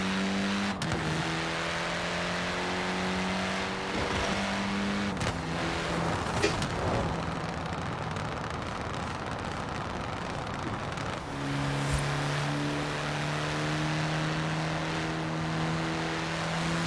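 Car engine in the Forza Horizon racing game, played on a Logitech G923 wheel on PC, holds a steady sustained drone with shifting pitch steps as gears change, continuous and fairly loud throughout with no talk.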